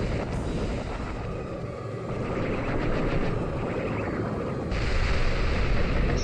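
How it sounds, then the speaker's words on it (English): A rumbling, roaring blast from a Z-move attack in a Pokémon game, a sustained noisy boom that swells and intensifies partway through, heard alone without talk. "an explosion happens or something"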